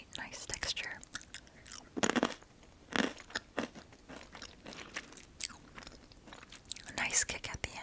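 Crunchy Thai snack, likened to Korean Shin Ramyun, being bitten and chewed up close, with repeated sharp crunches and softer mastication between them and quiet speech around the bites.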